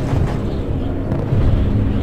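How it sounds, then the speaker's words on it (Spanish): Dull, rumbling booms of anti-aircraft fire in a video game roll over a constant low B-17 bomber engine drone, with heavy thuds in the background. "Estamos recibiendo fuego antiaéreo."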